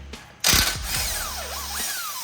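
A ratchet loosens an 18 mm nut under a 2013 Nissan Altima during CV axle work, breaking in suddenly with a loud burst of clicking, then a sustained mechanical whir with rising and falling tones.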